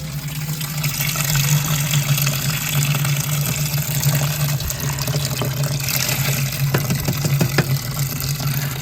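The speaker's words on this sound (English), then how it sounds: "We're gonna let that fill up," Steady rush of water filling a washing machine in an RV over a constant low motor hum, close by, with occasional clicks and knocks.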